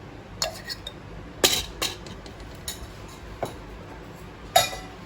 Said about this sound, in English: in my pan I am going to add around 1 tablespoon of